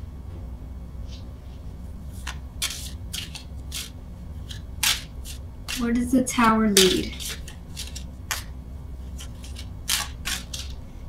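Soft, intermittent riffling and snapping of tarot cards being shuffled, irregular and close, with a brief spoken question in the middle.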